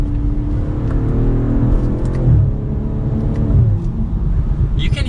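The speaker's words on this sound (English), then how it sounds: "You can hear some pops and a deep rumble to that exhaust." A 2022 BMW M440i xDrive Gran Coupe engine rumbles deep and steady, with a rise in revs and a few short crackling exhaust pops near the end.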